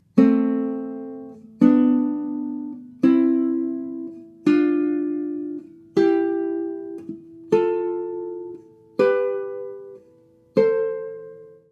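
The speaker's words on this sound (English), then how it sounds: "practice the right hand with the left hand playing a harmonized scale of your choosing" A classical guitar plays a slow harmonized scale in free stroke, eight plucked two-note chords evenly spaced, each ringing out and decaying before the next, with no talking.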